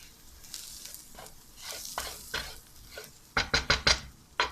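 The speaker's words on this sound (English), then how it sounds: "I'm going to chuck in my paprika, chilli, ground coriander" Paprika, chilli and ground coriander hit a sizzling pan, with a soft frying hiss under light scraping and a quick run of sharp metal clinks near the end, no voices.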